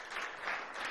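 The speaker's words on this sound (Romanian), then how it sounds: "Să primim cu aplauze." Studio audience applause on a television talk show, a brief burst of dense steady clapping lasting about a second, moderately near.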